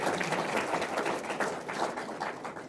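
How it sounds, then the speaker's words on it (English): Audience at a regional state-of-the-region address clapping steadily for several seconds, a dense even patter filling the hall with little talk. "I believe they deserve a hand of applause."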